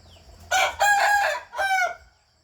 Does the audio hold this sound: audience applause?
no